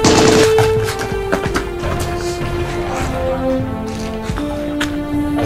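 Volley of rifle gunfire as a film sound effect: a loud opening crack followed by a rolling, ringing fusillade that carries on steadily for several seconds with no talk.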